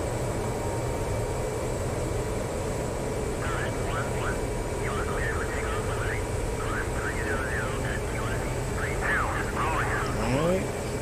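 F/A-18 Super Hornet jet engines in the DCS flight simulator, a steady broad roar with a constant whine, joined midway by warbling, rising tonal chirps, all continuous and fairly loud.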